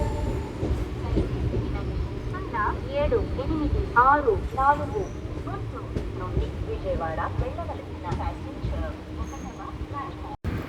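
A MEMU passenger train on the Guntur–Vijayawada line rumbles steadily along the rails with rhythmic clatter and occasional squeaks, heard from inside a carriage, with voices murmuring in the background.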